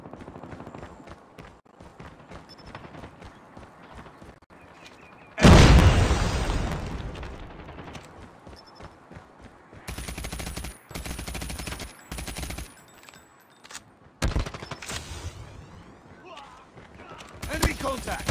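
Loud automatic gunfire and a heavy blast fill a Call of Duty: Mobile ranked multiplayer match, with sustained bursts and pauses between them and in-game voice callouts mixed in.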